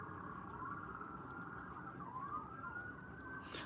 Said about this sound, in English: There's like so many sirens, it's kind of throwing me off.